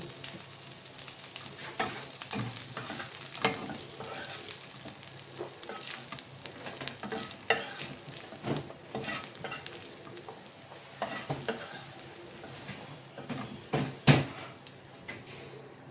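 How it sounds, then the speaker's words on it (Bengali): Small spice-marinated beef pieces sizzle and fry crisp in a pan, a steady close crackle under repeated scraping and stirring strokes. The frying runs the whole time, and no one talks. "একটু কড়া করে ভেজে নিলাম ভাজা হয়ে গেছে এখন তুলে নেব"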